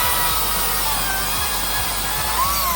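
A Hilti power tool cuts with a steady, rasping, high-pitched grind that runs continuously under faint rhythmic low thumps, loud and close, with a brief rising whine near the end.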